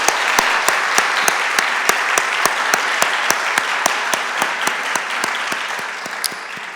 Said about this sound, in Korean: 우리 큰 박수로 우리 청년들 축복하겠습니다